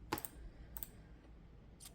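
A few sparse laptop keyboard keystrokes, soft and close, come as separated clicks against a quiet room background with no speech.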